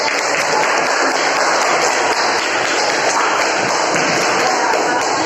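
Classroom applause, a dense continuous burst of many hands clapping at close range, steady and loud throughout the clip with no speech over it.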